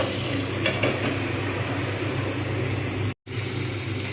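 Pointed gourd fries gently in oil in a pan, a dense continuous sizzle close by that is broken once by a brief cut to silence, with no talking.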